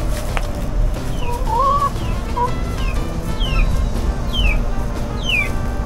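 Hens clucking in a backyard coop near the nesting boxes, with a steady run of soft clucks and a few higher squawks over constant low outdoor background noise.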